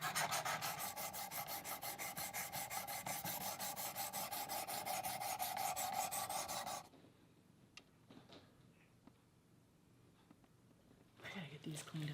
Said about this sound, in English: We're getting this one sharpened up.